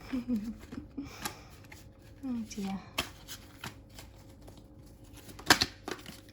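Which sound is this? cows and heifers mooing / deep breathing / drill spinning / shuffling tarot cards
shuffling tarot cards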